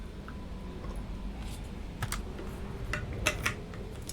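Scattered clicks of a wireless computer keyboard being typed on, a few quick taps at a time, close but soft against a steady background hum with no voices.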